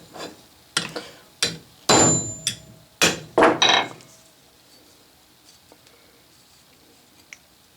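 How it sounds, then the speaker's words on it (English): Several sharp metallic hammer blows ring out against a repaired compound rest on a 6-inch Atlas Craftsman lathe, an irregular burst of loud clanks with short ringing tails, then fading to near silence with a faint tap or two. "Let's just check it here with a hammer real quick."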